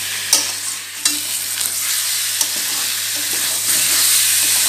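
Shankar fish (stingray) pieces being sautéed with spices in a pan, a loud continuous sizzle broken by sharp scrapes and taps as the spoon stirs.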